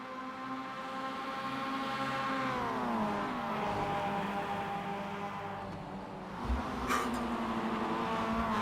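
Race cars lap the Nürburgring Nordschleife in the iRacing sim: a steady, fairly quiet engine drone climbs and settles through gear changes, with a brief sharp burst near the end and no voices.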